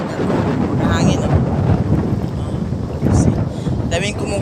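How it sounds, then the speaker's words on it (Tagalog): Strong wind at a seashore buffets the microphone with a continuous roar and gusts that swell and fade, while faint voices come and go beneath it. "Hangin."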